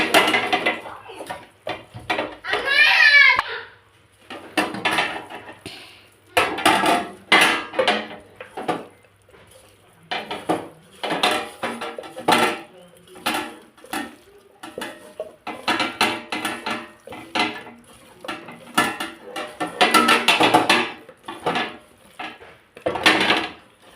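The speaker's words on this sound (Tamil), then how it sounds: "உப்பு 1/2 ஸ்பூன், கொத்தமல்லி தழை கொஞ்சம் போட்டு நல்லா கலக்கிடலாம்." Chicken being mixed by hand or spoon with salt and coriander leaves in a bowl, giving repeated soft clinks, scrapes and wet mixing noises close by, with no talk.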